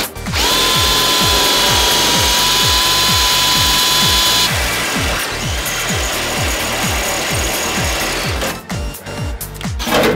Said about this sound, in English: I drill a 5mm hole first